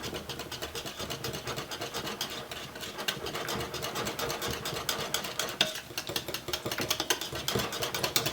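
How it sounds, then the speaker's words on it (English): Honey butter being whisked with kosher salt in a bowl, a rapid, steady run of light scraping and clicking strokes continuing throughout, moderately quiet with no voices. "let's give this a whisk"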